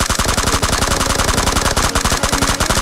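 Sustained automatic gunfire in PUBG Mobile, a rapid, loud, unbroken stream of close shots filling the whole stretch with no pauses.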